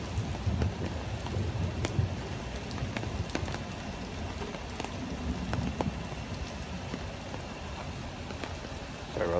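Heavy rain pours steadily during a late-night Brooklyn thunderstorm, a dense, even hiss with a low rumble in the first couple of seconds, close and continuous with no voices.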